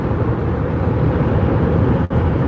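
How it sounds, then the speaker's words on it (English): Steady broadband road rumble of a car cruising on the I-94 highway, engine drone and tire roar blended into a constant near wash with one brief dip near the end. "I listen to the sound of the engine."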